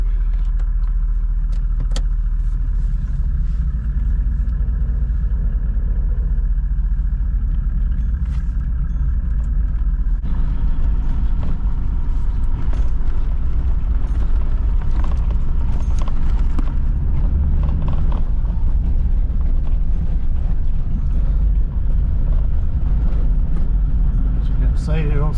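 A car with a tyre pressure monitor fitted drives steadily along the road, its low engine and tyre rumble constant throughout, with voices talking over it.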